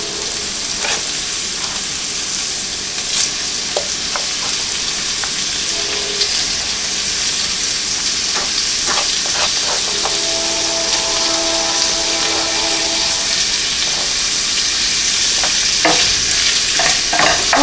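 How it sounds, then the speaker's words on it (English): Sausage sautéing with softened vegetables in a pan for red beans and rice stuffed peppers, a steady loud sizzle broken by occasional scrapes and clinks of a utensil stirring, with no talking. "We're just going to saute the sausage with our veggies for about a minute."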